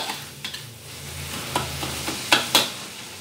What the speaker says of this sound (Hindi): इसको अच्छी तरीके से भून के पका लेना है।